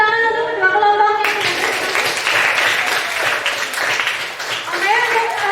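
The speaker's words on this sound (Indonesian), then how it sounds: "Berikan tepuk tangan untuk kedua kelompok" Applause from a classroom of students, a dense burst of clapping that starts abruptly after a short stretch of speech and continues for several seconds, with voices over it near the end.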